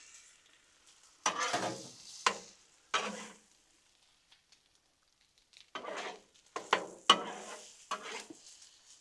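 Lumberjack sausage, onions and peppers on a Blackstone griddle, heard as intermittent bursts of scraping and crackling sizzle separated by quiet gaps, fairly faint overall.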